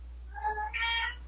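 A house cat meows in two drawn-out calls, the second higher and longer, close and clear over a steady low electrical hum.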